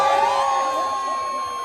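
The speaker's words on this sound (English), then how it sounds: "Give yourself a round of applause" Crowd at a TikTok panel event in Miami cheering and whooping, a bright sustained roar with a high whistle-like tone, fading slightly over under two seconds.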